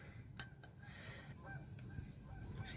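Geese honk faintly in a garden yard, a few scattered honks over quiet outdoor background.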